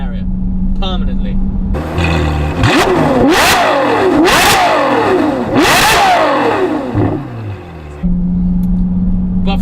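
A Novitec N Largo Ferrari F12 with a V12 engine idles, then revs hard in three loud rising-and-falling bursts before settling back to a steady idle, close and dominant.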